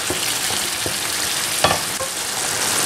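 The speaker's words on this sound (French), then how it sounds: "je fais cuire ma sauce tomate en la mélangeant de temps à autre pendant 5 minutes" Tomato sauce simmers and sizzles in a pan, reducing while it is stirred now and then, with a steady frying hiss and a few soft scraping strokes from the spoon.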